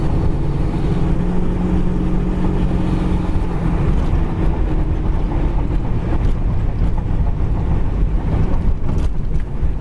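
1980 Pontiac Trans Am driving hard with its tires spinning, a loud, steady engine roar under heavy wind rush for about ten seconds, with no one talking.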